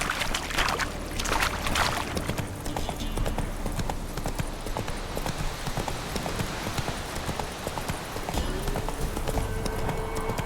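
Roach, the horse in The Witcher 3: Wild Hunt, running with rapid rhythmic hoofbeats that continue steadily throughout, loud and close, over a flowing background ambience.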